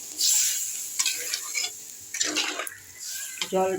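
Water poured into a pan of fish curry masala made with black cumin, splashing and stirring in bursts against a hot sizzle, close and fairly loud.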